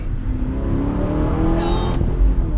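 An Aston Martin engine revs steadily from inside the car, its pitch sliding as a paddle-shift downshift is made. The drone is loud and close throughout.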